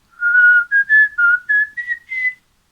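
A person whistles a short tune alone, about seven clear bright notes in a rising, broken phrase, close and loud.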